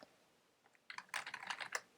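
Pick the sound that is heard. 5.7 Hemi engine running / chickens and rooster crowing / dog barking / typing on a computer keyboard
typing on a computer keyboard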